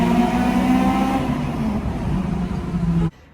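An Acura RSX DC5 engine revs hard and climbs into VTEC, a loud continuous rising engine roar for about three seconds before cutting off abruptly, with no talking.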